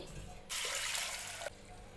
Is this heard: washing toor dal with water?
yes